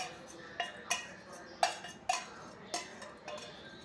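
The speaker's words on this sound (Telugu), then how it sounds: "అలా వేసుకొని మిక్స్ చేసుకోవాలి మొత్తం." A spoon taps and scrapes in a bowl while tamarind, salt and tempering spices are mixed for tiger rice, with soft irregular clinks spaced roughly half a second apart, quiet and close, no speech.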